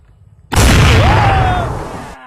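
A carbide cannon fires after water is added to the carbide, a sudden loud, close blast that holds a rumbling roar for over a second before cutting off abruptly.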